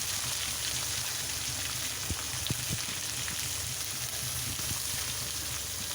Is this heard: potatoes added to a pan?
yes